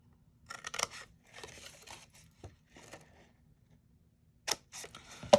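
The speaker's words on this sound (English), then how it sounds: "we're going to go ahead and trim these score lines" Scissors trim score lines on paper for a small Valentine's treat box, giving several short snipping and rustling bursts close by, with quiet gaps between cuts.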